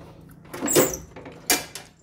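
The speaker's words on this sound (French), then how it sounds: "Est-ce qu'on ouvre la fenêtre au chat?" A window is opened to let a cat in, with two brief squeaky sliding scrapes a moment apart over a quiet room.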